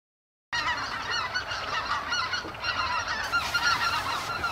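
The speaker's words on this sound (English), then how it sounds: "We're watching these snow geese and speckle bellies." A flock of snow geese and specklebelly geese honks continuously in the open near a highway in Arkansas, many overlapping calls forming a dense, steady chorus at moderate distance with no talking.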